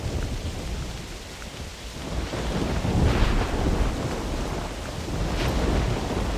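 Heavy rain and rolling thunder in the hunting game theHunter Classic, a loud dense downpour with deep rumbles swelling and fading throughout.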